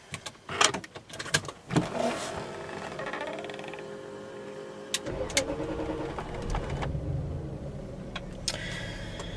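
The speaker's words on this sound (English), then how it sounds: "So, I'm going to start my car." A Range Rover L322 engine cranks and starts after several clicks and clunks from inside the cabin, then settles into a steady, close idle rumble with a few light knocks.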